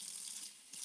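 Two cups of warm water pour steadily into a bowl for homemade bagel dough, a close, continuous splashing hiss that eases briefly before swelling again, with no talking.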